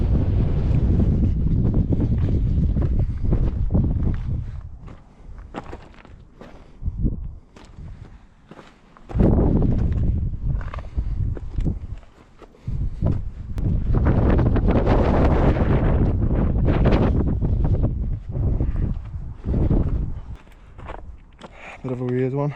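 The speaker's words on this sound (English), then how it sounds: "Oh, it's choppy there, all the wind." Strong gusts buffet the microphone on a mountain ridge above Playa Blanca, Lanzarote, roaring in heavy low rumbling bursts with brief lulls, while footsteps crunch and someone talks over it.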